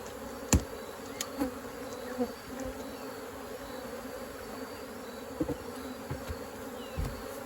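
A dense, continuous hum of disturbed honeybees swarms around a beekeeper, with individual bees buzzing close past in brief louder passes over the steady drone.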